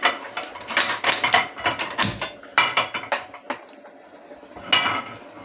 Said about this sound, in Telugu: ప్యాన్ పెట్టుకొని స్టవ్ ఆన్ చేసుకుందాం.